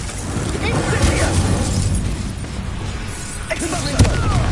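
An explosion spell goes off in the Hogwarts Legacy video game, rumbling bursts and shattering debris with a sharp crack near the end, mixed with character voices.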